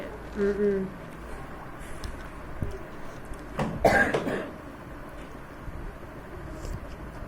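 A single short cough bursts out near the middle, close and fairly loud, with faint voices and low background noise around it.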